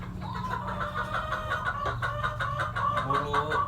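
Chicken with mucus in its throat clucking in a steady run of short, raspy calls, close by, with other fowl sounds in the background.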